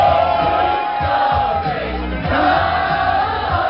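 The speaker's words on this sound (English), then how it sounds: "This crowd can sing tonight." A large concert crowd at a show sings along and cheers loudly and continuously, a dense roar of voices with shouts rising over it throughout.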